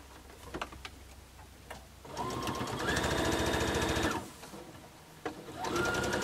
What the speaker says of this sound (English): I'm sewing all this together on my fabulous Baby Lock Jubilant.